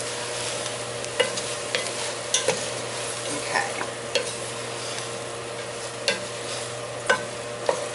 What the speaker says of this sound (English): Just mix it up. Mix it up nice.